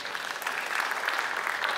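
Congregation clapping together during a church worship service, a dense steady burst of applause with no pauses.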